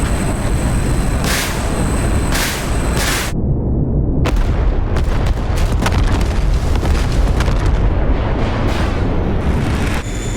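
Bombs dropped on a town in the flight simulator DCS, in a 1982 Soviet-Afghan War setting, send out heavy, loud rolling booms over constant roaring noise, with repeated sharp bursts in the second half.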